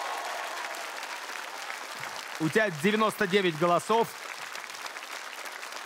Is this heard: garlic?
no